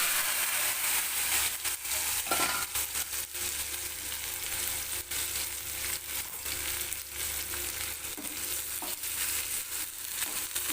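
Steady, loud crackling sizzle of okra frying in hot oil, continuous throughout with small pops and no talking.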